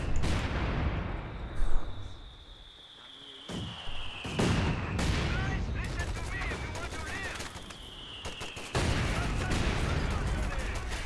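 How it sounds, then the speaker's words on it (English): Mortar fire in a Company of Heroes 2 1v1 match lands as a run of sharp, separate blasts and cracks spread across a busy battlefield, with a voice talking over it. "Mortars going hard."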